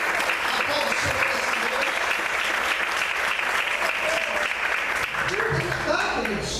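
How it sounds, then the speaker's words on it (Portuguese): Worshippers in a church clapping for the Lord, a long, steady roar of applause with shouts and voices woven through it, easing slightly near the close. "Aplauda o Senhor"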